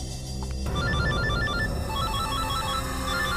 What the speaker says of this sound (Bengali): স্যার, রিং হচ্ছে কিন্তু কেউ তুলছে না।